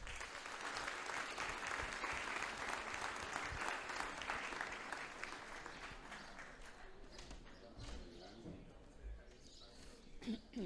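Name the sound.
applause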